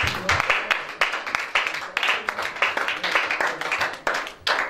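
A church congregation claps and applauds in praise of Jesus during worship, a dense run of fairly loud, irregular hand claps through the whole moment with some voices mixed in.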